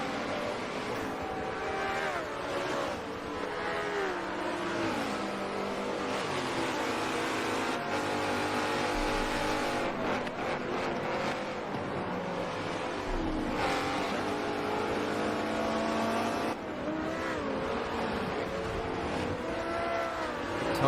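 Race car engines roar in a GT4 sim racing game at Watkins Glen, several cars' tones rising and falling through gear changes in a dense continuous drone.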